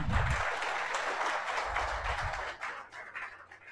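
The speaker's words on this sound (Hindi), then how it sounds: "आपके एक बार जोरदार ताली बजाए आप लोग" An audience at a school lecture event claps in a steady wash of applause that holds for several seconds, then thins and tapers toward the end.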